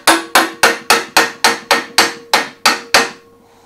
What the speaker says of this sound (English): just needs hammering home lightly